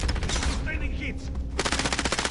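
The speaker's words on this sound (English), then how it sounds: "I'm taking fire! They're lighting me up." Rapid automatic gunfire rattles in bursts in the video game Call of Duty Warzone, fading briefly and then resuming in a fast, dense string of shots.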